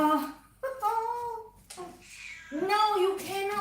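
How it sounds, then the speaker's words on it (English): A house cat meowing several times in a row, drawn-out tonal cries close by indoors, some rising and falling, with no talk between them. "This is my cat."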